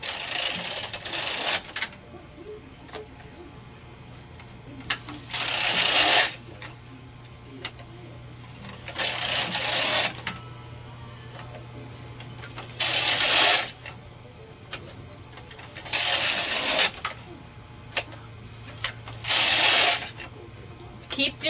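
Knitting machine needles pushed forward into holding position, giving repeated bursts of clicking, sliding metal clatter roughly every few seconds, close and fairly loud, with a low steady hum beneath.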